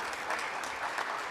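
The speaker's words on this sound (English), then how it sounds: "Please join me one more time in a round of applause for all of our 2025 Dr. Murdo Hightower Diversity" Steady applause from an audience at a Plano ISD MLK celebration honoring diversity award nominees, a dense, even patter of many hands, moderately distant and without talk.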